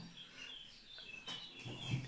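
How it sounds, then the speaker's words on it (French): Birds chirping in an outdoor nature soundscape with running water, short high tweets scattered over a soft background hiss, fairly faint and distant. "Ça fait du bien d'entendre un peu les oiseaux, l'eau qui coule"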